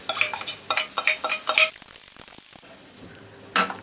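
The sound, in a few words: stirring noodles with sauce in a pan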